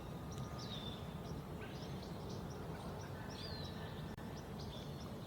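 Several faint high-pitched bird calls, including an American robin, sound at a distance over steady outdoor background noise.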